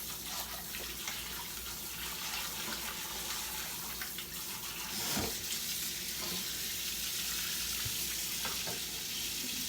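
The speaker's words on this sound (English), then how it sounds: "Just rinse the pork." Cold tap water runs steadily over raw pork in a sink, a constant hissing splash close by with a few small knocks and shifts as the meat is handled, no talk.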